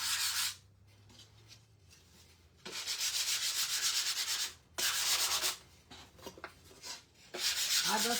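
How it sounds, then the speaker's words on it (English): Wood being hand-sanded with 120 grit sandpaper on a rustic primitive star craft, in several close, scratchy rubbing strokes separated by short pauses. "I just like to sand over it one more time to get the raised grain"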